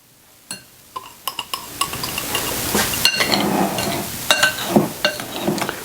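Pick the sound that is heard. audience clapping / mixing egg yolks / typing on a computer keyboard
mixing egg yolks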